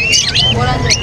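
Caged birds at a pet market chirping and squawking close and loud in short bursts, with a voice talking underneath the calls.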